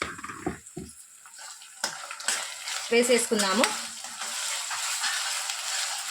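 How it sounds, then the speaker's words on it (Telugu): Masala paste of ground coconut and spices sizzling and frying in a pan for a Telugu potato and drumstick curry, with a spoon stirring and scraping close by, and someone speaking briefly over it. "మసాలా బాగా వేగాలి."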